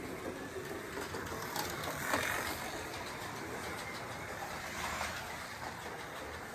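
A Scalextric F1 slot car runs laps on its track, a continuous whirring electric motor hum with gentle rises in pitch and volume as it passes, fairly faint and steady throughout with no talking.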